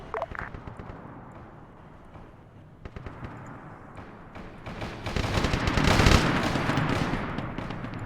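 Arma 3 gunfire and mortar fire during a Warhammer 40k themed Zeus operation: dense, continuous volleys of shots and blasts that swell louder toward the middle, with a heavy burst near the end.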